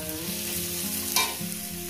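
Spinach with mola fish and salt sizzles in a pan, a close, steady frying hiss with a brief stirring scrape in the middle, over a low electrical hum.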